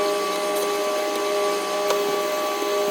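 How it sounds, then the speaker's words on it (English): A vacuum cleaner runs aboard a boat, a steady whining drone with a constant pitch that fills the space without pause. "We better get the vacuum out."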